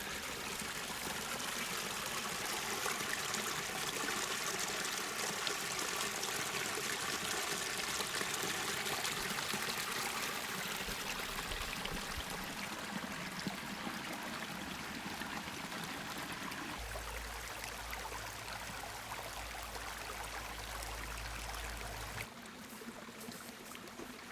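Creek water flows and trickles steadily beside a campsite along a backpacking trail on the Mogollon Rim, a constant close rushing wash with a low rumble that rises briefly toward the end.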